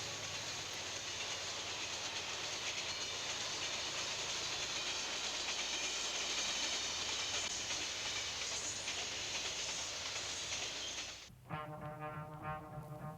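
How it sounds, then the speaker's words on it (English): A Seaboard Silver Meteor streamliner coach train running, a steady rushing rumble with hiss and faint rail clatter, ending abruptly in a short burst of different sound near the end. "Seaboard's newest and smartest coach train, the Silver Meteor, brightened many evenings on its passenger runs."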